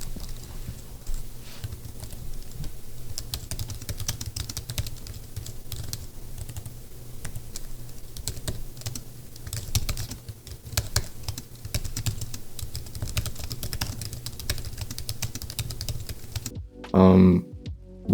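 Steady, snappy key clatter comes from typing on a Samsung Book Cover Keyboard, a continuous rapid patter of close clicks with a brief louder thump near the end.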